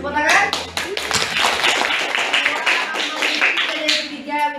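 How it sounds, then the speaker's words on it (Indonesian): A class breaks into applause for top pretest scorers. A brisk burst of many hands clapping fills the room, close and steady, with a voice speaking briefly at the start and end. "Tepuk tangan."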